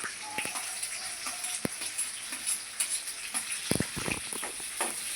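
Cumin seeds, curry leaves and green chili sizzle in a hot pan, a constant bright hiss broken by quick ticking clicks and spatters as the spices are stirred.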